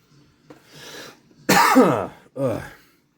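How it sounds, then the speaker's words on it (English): A few harsh coughs and throat clearings come in short bursts, close and loud, with brief pauses between them. "stupid cough today"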